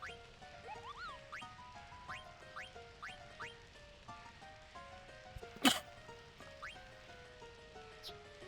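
A single sharp sneeze bursts out once near the middle, loud and close, over steady Final Fantasy IX game music that keeps playing throughout.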